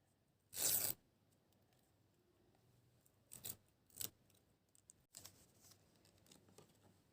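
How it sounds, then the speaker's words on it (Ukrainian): A paper surprise packet is ripped open with one loud, sharp tear, followed by a few quieter crinkles and taps of handled paper nearby. "А, добре, тоді дориваємо пакет."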